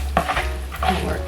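Beef sizzling with soy sauce while being mixed by hand, a brief close burst of crackling sizzle and wet squelching with a low background hum, no talking.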